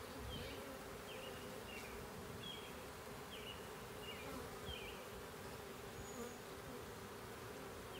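Bees buzz around an opened hive during a spring inspection: a dense, steady drone of many insects fills the space, with individual bees whining past close by.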